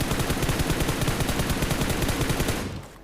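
Rapid automatic gunfire in the mobile battle royale game PUBG Mobile, a dense, continuous loud burst of shots at a fast even rhythm that cuts off near the end.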